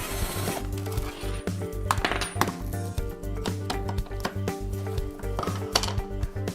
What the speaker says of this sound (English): Start by unscrewing the 4 screws in the back.